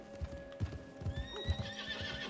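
A horse's hooves clip-clop at a steady walk with a whinny, sound effects from Red Dead Redemption 2 on Xbox One, with a faint tonal hum in the background.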